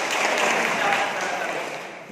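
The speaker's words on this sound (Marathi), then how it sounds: "एकदा टाळ्या वाजवून त्याचं स्वागत आपण सगळ्यांनी करावं" Applause at a village meeting on land and housing rights: a short burst of dense clapping from a crowd that holds steady for about two seconds and then starts to fade.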